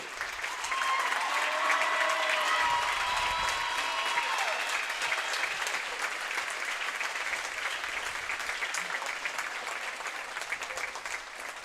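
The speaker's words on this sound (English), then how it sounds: "give a nice round of applause for our seniors this year" A crowd at a high school boys basketball game claps steadily for several seconds, a broad sustained round of applause that gradually thins, with a brief whistle near the start.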